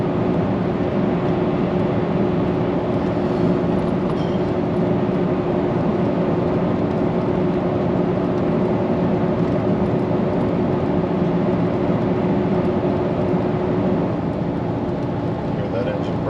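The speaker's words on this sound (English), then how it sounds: "Hear that engine brake working." A semi truck's engine brake drones continuously on a steep mountain descent toward Denver, a loud, steady low rumble heard from inside the cab with road noise.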